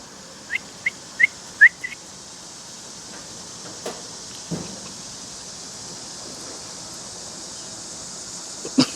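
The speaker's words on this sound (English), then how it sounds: "See, I whistle." A person whistles to an abandoned baby bird being hand-fed, giving five short, clear whistle notes in quick succession, followed by a quiet room with a few faint clicks and rustles.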